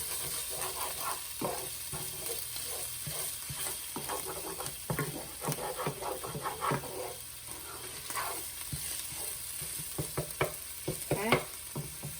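A pan sauce bubbling and sizzling in a skillet, a steady close hiss broken by irregular spatters and pops, with scraping stir sounds now and then and no talking.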